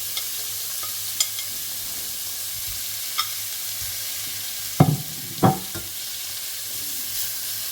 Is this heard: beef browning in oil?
yes